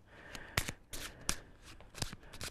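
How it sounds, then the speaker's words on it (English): Playing cards are shuffled by hand nearby, giving a series of sharp papery riffles and snaps at irregular intervals, soft in level with no talking. "Shuffle them up."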